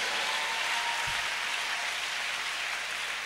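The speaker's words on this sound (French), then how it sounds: "Nous acclamons Jésus." A church congregation applauds in praise of Jesus, producing a dense, continuous wash of clapping from many hands throughout, with no speech heard.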